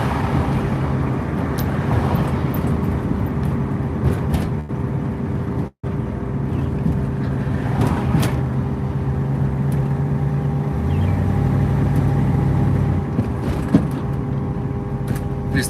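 Ford Mustang driving along, a steady low engine drone and road rumble throughout, with a brief dropout partway and a slightly louder stretch near the end.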